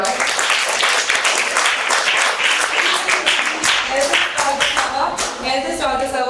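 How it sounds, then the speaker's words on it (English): A small parish church group gives brief applause for its youngest altar server, a seven-year-old, with scattered claps running under steady talk and voices. "Everybody clap for them, right?"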